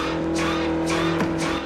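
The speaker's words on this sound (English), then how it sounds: "So our favourite Bible salesman and Estefes are outside while the trucks ride around and one of them" A big truck's engine drones steadily close by, with a brief tire squeal and swishing passes, as it reverses after a man in the film Maximum Overdrive.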